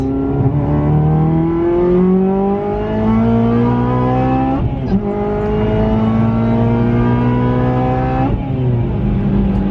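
A supercharged Honda Civic Si accelerates at wide open throttle from inside the cabin: loud rising engine and supercharger whine climbing through gears, with brief dips at each shift before pulling hard again.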